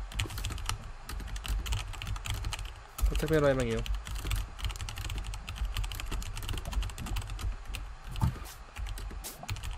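Quick clattering computer keyboard typing runs throughout during an online game session, moderately close, while a voice speaks briefly over the keys.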